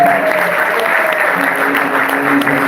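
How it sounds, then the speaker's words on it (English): An audience at the Washington State History Museum claps steadily for a few seconds, a dense wash of applause filling the room without pause. "Let's give Jackie a round of applause"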